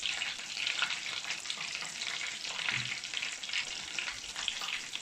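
Breaded cheese frying in a pan, with a steady, close crackling sizzle that holds at an even loudness throughout and no voices.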